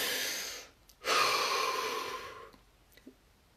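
A person takes a long, deep breath during a relaxation session: a steady airy inhale, a brief pause, then a longer exhale, close and clear.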